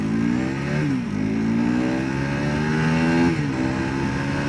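A 2022 FB Mondial SMX125 motorcycle accelerates up through its gears, the engine note rising in pitch and then dropping at each of two gear changes. The engine is close and loud, runs steadily throughout, and no one speaks.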